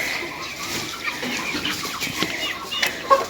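A flock of chicks clucking and chattering together nearby, a busy, continuous murmur of fowl with a few sharper calls.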